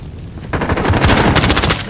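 Gunfire in Call of Duty: Modern Warfare. A quieter stretch gives way to loud, rapid automatic bursts of crackling shots that intensify toward the end.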